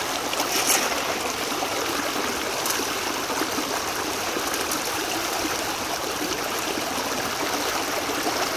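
Steady rushing river water flows continuously through a Keen A52 gold-prospecting sluice, a broad close-up wash of sound with a faint gurgle, no voices.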